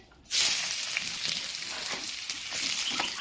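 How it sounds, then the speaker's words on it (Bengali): Chopped onion hits hot oil in a pan for a Bengali chicken curry and bursts into a loud, steady sizzle that holds for several seconds with soft crackling. "পেঁয়াজটাকে অল্প ভেজে নেব।"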